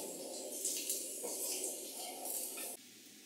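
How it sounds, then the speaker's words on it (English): Onion sautéing in a pan for Bengali chicken curry with potato, a steady close sizzle and hiss with faint clinks of a utensil, cutting quieter near the end. "Saute that until the onion turns golden brown"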